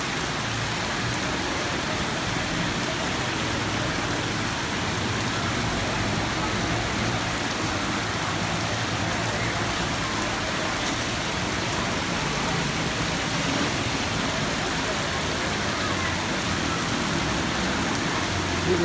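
Heavy stormy rain pours steadily over Lahore, a dense, continuous hiss of downpour on surfaces with low traffic rumble beneath, loud and unbroken throughout.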